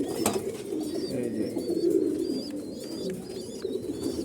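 Low, steady cooing of Koka pigeons fills the scene, with a few soft higher bird chirps scattered over it.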